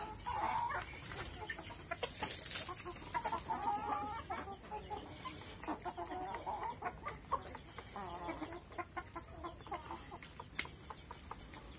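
Chickens cluck continuously at close range, several birds overlapping in busy, uneven chatter with no talking.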